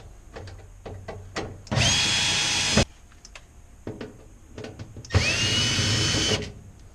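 Power drill driving out the ceiling screws inside a Fhiaba Fresco refrigerator, two loud sustained whirring bursts of about a second each, separated by quieter clicks and handling knocks.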